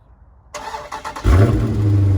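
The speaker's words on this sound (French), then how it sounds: "Donc la voiture, elle démarre toute seule." A Dodge Challenger SRT engine cranks and catches by remote start, then settles into a steady low idle close by, with no one speaking.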